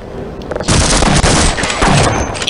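Loud shotgun blasts from Half-Life fire in a dense burst after a brief quiet start, booming and clattering close up, with no talk over them.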